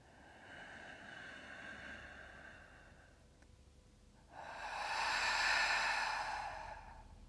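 Two slow, deep breaths during a gentle yoga session, the first a soft airy inhale or exhale, then after a short pause a louder, longer whooshing exhale out through the mouth, close and alone.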